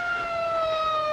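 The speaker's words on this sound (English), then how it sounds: "There's the ambulance." An ambulance siren wails with a steady, slightly falling electronic tone, moderately distant and faint, in the 1963 film King Kong vs Godzilla.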